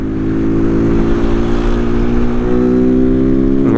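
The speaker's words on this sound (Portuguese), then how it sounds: "Acho que eu vou acelerar" A car accelerates on a road, its engine droning loud and close with steady, slightly rising tones that hold for several seconds without a break.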